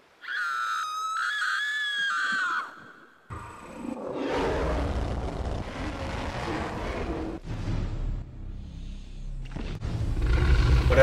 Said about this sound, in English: You scream, and you scream for your life!